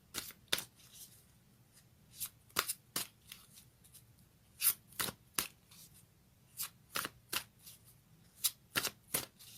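A deck of fairy tarot cards is shuffled close by, giving quick riffling bursts at irregular intervals against a quiet room with no talking.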